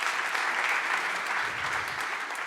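Audience applause at a talk on animation, a dense, even wash of clapping from a crowd that holds steady and then tapers slightly toward the end.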